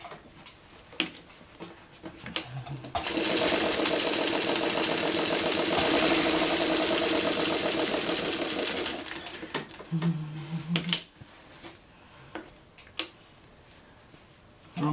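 Sewing machine stitching machine appliqué around a Churn Dash quilt block fused with Heat and Bond light, a steady fast mechanical whir running continuously for several seconds, with quieter handling clicks and taps before and after.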